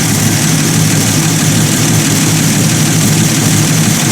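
A 1950 Buick Roadmaster engine idles loud and close while warming up, a steady low rumble with an even, unbroken drone and no voices.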